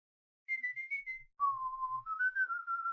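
A person whistles a short tune alone, clear sustained notes stepping between pitches in three phrases after a brief silence.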